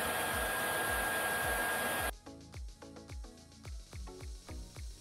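A heat gun runs as a loud, steady broadband blower roar for about two seconds while softening the adhesive on a Tesla car logo, then cuts off, leaving faint repeated low thumps and ticks in the quiet.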